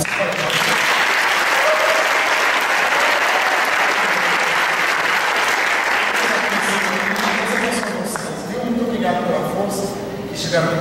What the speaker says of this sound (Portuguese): Eu queria que vocês aplaudissem a banda de louvor aqui da igreja.